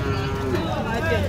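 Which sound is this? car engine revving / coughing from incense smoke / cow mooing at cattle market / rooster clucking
cow mooing at cattle market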